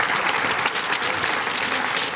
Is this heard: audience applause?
yes